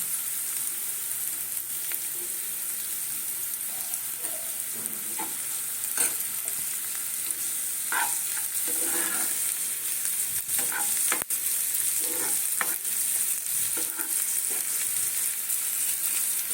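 Chopped onions with a pinch of salt fry in a pan for paneer bharta while a spoon stirs them now and then, giving a steady close sizzle with intermittent scraping strokes and no talk.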